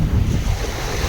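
Stormy Black Sea waves crash on the shore in strong wind, a loud, roaring wash of surf with heavy wind buffeting the microphone through the brief stretch.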